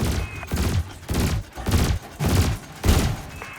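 Ship cannon and laser weapons fire in the space game Elite Dangerous: a steady series of about six heavy, booming shots roughly every half second, loud and close.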